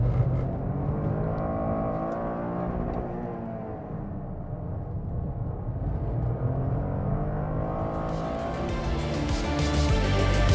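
A Toyota GR Corolla accelerates hard on a race track, its engine a steady, loud drone that holds throughout and swells near the end as the car pulls through the corner, with no talk over it.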